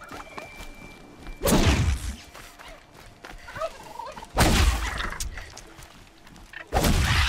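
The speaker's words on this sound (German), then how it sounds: "Da hinten ist noch ein Truthahn." A turkey gobbles in the video game Horizon Zero Dawn, three loud rattling gobble bursts spaced a few seconds apart, close by, with quieter ambient game sounds between them.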